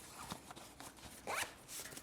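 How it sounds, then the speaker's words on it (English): The main-compartment zipper of a Thule Aion 28L backpack is pulled open in one quick, close, scratchy run lasting about two seconds. "So this zipper is gonna let you into the main compartment."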